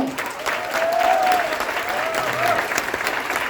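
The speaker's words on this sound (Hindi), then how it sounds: "अपने ग्रेट गुरु मिस्टर बीके मिश्रा सर के लिए एक बार जोरदार तालियां चाहूंगा" An audience in a hotel hall claps loudly for their guru BK Mishra. The applause is dense and continuous, with a faint voice or tone rising through it.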